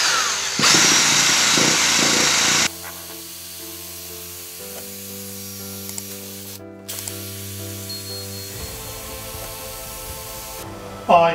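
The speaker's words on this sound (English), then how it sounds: "I got this attachment for my drill from a craft store." A power drill with a polishing attachment whirs steadily with a high, hissing buzz at first while working a drinking horn, then settles into a lower, even motor hum that runs on, ending with a brief louder burst.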